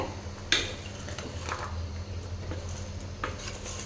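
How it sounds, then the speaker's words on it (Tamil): Vegetables such as pumpkin and raw banana are stirred with salt in a pot for thiruvathirai kuzhambu, making a few quiet spoon clinks and scrapes over a soft background hum. "இது எல்லாமே நல்லா கலந்து விட்டுறலாங்க"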